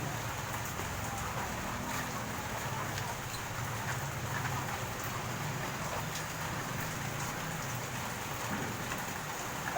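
Steady rainfall, a dense continuous hiss of drops on surfaces that stays level across the whole stretch, with faint background voices.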